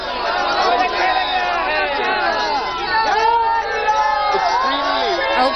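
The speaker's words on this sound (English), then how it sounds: "Extremely excited crowd here. at the residence of his elder brother." Excited crowd gathered at the residence of Ram Nath Kovind's elder brother, a dense continuous babble of many voices shouting and chattering, loud and close throughout.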